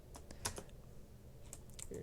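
Computer keyboard keys tapped while writing C++ code, a sparse run of light clicks with one sharper strike, heard under faint background noise and a low hum.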